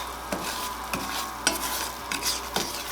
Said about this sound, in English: It's going to kind of start to bubble and boil a little bit.